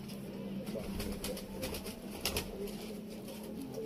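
Sialkoti chuhay pigeons coo softly in a loft, low murmuring calls repeating under faint rustling and wing sounds, with no talk.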